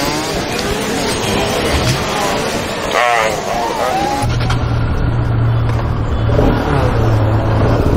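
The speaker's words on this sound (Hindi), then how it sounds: "गाड़ी थोड़ा गर्म होने दो।" A vehicle engine runs steadily while warming up, outdoors and close, with a continuous rough rumble and wind buffeting throughout. A person speaks over it.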